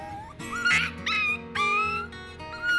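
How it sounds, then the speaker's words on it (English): A boxer puppy yelping and whimpering, a series of close, high, sliding cries in short bursts with brief gaps between them. "Despite the yelp, Paya is tougher than she looks."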